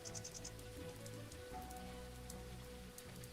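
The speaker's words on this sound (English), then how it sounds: "It was clear all the way here, but now it's raining." Steady rain falls in the video game Wandering Sword, a continuous dense patter of drops on surfaces under a constant low ambient drone, with occasional brighter splashes, no voices.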